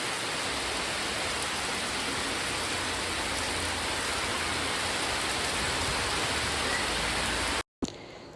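Heavy rain falls in a steady, dense hiss that stays even and loud throughout, then cuts out abruptly near the end.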